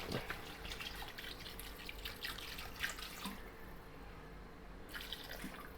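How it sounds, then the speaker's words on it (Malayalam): Water splashes and trickles faintly into a cooking pot, about three-quarters of a litre poured fairly steadily for a biryani, before a brief pause and another short splash. "ഒരു മുക്കാൽ ലിറ്റർ വെള്ളം ഇതിലൊഴിക്കുകയാണ്"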